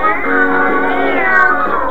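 Cartoon cats, the Cardinal's cats in an animated Three Musketeers film, meowing loudly and close in a drawn-out, wavering chorus of harmonically rich yowls.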